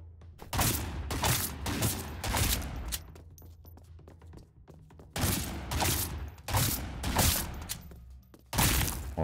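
Shotgun gunfire in the video game Badass Hero comes as loud, booming bursts of blasts separated by short pauses. Impacts sound like thuds and breaking.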